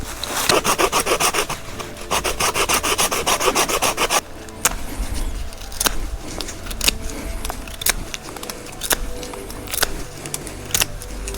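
Knife carving wooden tent stakes outdoors: rapid rhythmic scraping and shaving strokes on wood, loud and close, with a pause and then slower, irregular cuts and rubs.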